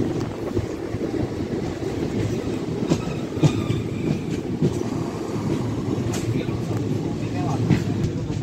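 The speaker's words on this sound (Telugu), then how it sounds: "తిరుపతి సైడ్ నుంచి ఒక ట్రైన్ వస్తుంది." A passenger train rolling past near Tirupati station, a loud continuous rumble with rhythmic wheel clatter and scattered metallic clicks, heard close from alongside the tracks with wind noise.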